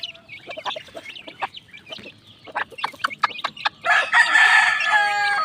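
Pet chicks chirp while being fed, with quick, close peeps and clucking notes in irregular bursts that build into a denser, louder chorus toward the end.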